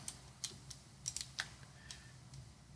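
Computer mouse and key clicks while holding Control in Adobe Illustrator, a series of light, close, irregular taps over a faint room hum.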